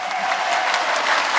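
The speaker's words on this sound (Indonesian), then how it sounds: "Tepuk tangan dong." A short burst of dense audience applause at an Islamic religious talk, a bright, steady wash of many hands clapping, loud and close with no break.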